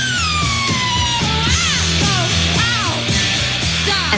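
A punk singer screams and yells over a driving band on a loud recording, her sustained, sliding vocal cries rising and falling repeatedly above pounding drums and guitar.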